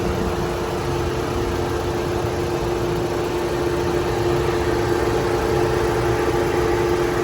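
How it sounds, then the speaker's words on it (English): A 2019 Mitsubishi Eclipse Cross engine idles continuously with a low drone and faint mechanical whine, unchanging throughout, with no voices. "I do have the vehicle running as well"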